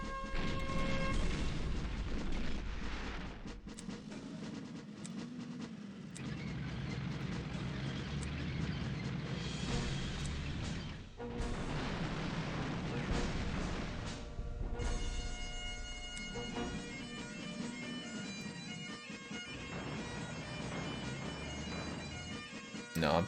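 Artillery fire in the strategy game Panzer General II, a dense continuous barrage of heavy booms and rumbling blasts running loud through the whole stretch, with a brief dip midway and layered explosive bursts later.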